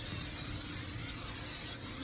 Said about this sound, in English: Spray it with a little bit of non-stick cooking spray.